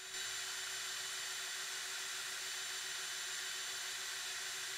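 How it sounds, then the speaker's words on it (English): A Ryobi compact drill/driver runs steadily at low speed, giving a constant high-pitched whine with an even hum underneath, close and alone with no talk. "Let's see what each drill produces as far as RPM, starting with Ryobi on low speed."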